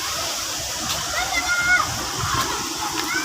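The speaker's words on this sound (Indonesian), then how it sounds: "Ya, itu air terjunnya." Janji waterfall at Bakkara pouring and splashing, a steady broadband rush of falling water close by, with faint voices and brief high chirps over the roar.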